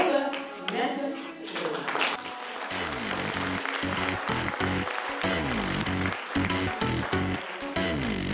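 An audience at a Miss Maxi pageant applauds the painting round, steady clapping running for several seconds beneath loud music and a voice.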